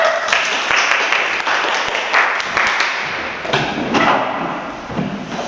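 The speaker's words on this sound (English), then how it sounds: "Let's give him a round of applause." Applause from the audience at a school English debate, a broad wash of clapping with a few sharper close thumps, fading a little toward the end, with faint voices underneath.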